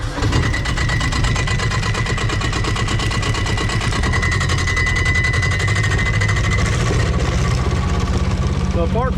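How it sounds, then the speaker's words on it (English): Kubota diesel engine swapped into a golf cart, running and idling steadily with a loud, even rumble and a faint whine from a noisy clutch, while a voice speaks briefly over it. "So apart from the clutch being noisy, it runs pretty good."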